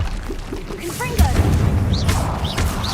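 The Confringo explosive spell in Hogwarts Legacy fires with a sharp crack and a booming burst just past one second. Crackling debris follows, mixed with game effects and a character's voice.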